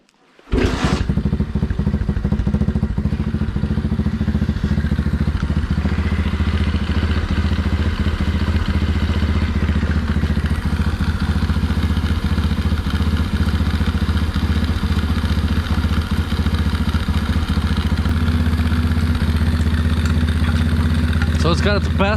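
A project engine idles steadily after its carburetor mixture screw has been adjusted, starting with a sharp catch and then holding a loud, even, rumbling idle close by for about twenty seconds.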